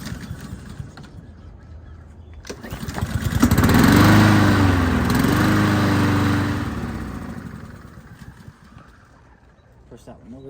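Greenworks lawn mower engine cranked and catching, swelling to a loud running roar for a couple of seconds before easing back, with voices talking nearby.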